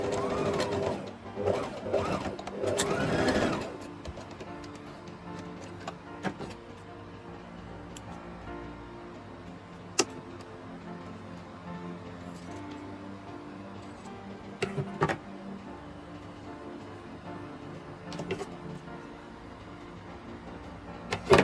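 A sewing machine runs faintly and steadily while stitching the ends of a 180-degree half-circle flare maxi skirt, with a brief louder stretch near the start.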